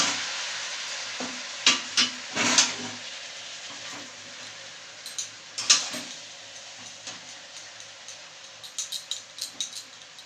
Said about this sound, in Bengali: দিয়ে এবার আমি নাড়াবো।